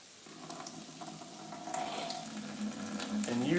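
Water sloshes and runs in a pot while rice is rinsed at a sink, a quiet swishing that slowly grows louder and closer, with a faint tonal ring near the end.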